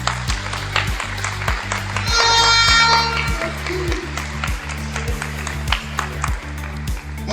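Scattered applause rises at a basketball semi-final ceremony in a gym, uneven clapping mixed with sharp pings and a strong rhythmic low thumping of music throughout, with a brief bright tonal swell partway through.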